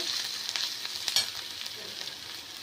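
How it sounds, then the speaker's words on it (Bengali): Chopped onions fry in a pan with oil, a soft steady hiss with a few crackles and light stirring clicks, fading slightly toward the end. "দেখো পেঁয়াজটাকে একটু সুন্দর করে ভাজা ভাজা করে"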